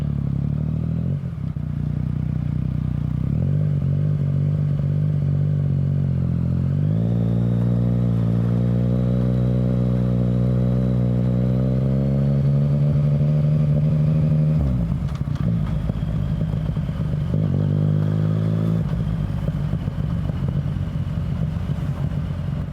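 A motorcycle rides along the A592 road between Windermere and Newby Bridge, its engine droning loudly and steadily up close, rising in pitch as it accelerates, easing off, then pulling again, with no talk.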